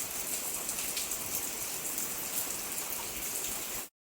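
Steady, dense rain pouring down outdoors, an even hiss of drops on surfaces that is close and loud throughout and then cuts off abruptly.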